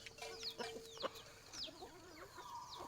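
Chickens clucking as they gather to eat, several birds making close, busy overlapping clucks and short calls, with a brief steady whistle-like tone near the start.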